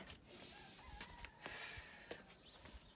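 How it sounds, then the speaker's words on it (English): Roosters crow faintly in the distance, calls rising twice over quiet, misty hillside ambience with scattered small noises. "Cockerels are crowing, mist is rolling over the hills."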